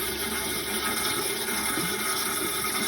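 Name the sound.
pressurised water flushing dirty water out of car radiator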